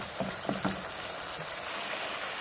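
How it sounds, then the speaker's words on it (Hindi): Masala sizzles and fries in a pan, a soft continuous crackle with a few faint stirring scrapes near the start, heard close and fairly quiet. "अब इसको 1 से 2 मिनट भूनने के बाद हम अपने कोफ्ते जो हैं वो इसके अंदर"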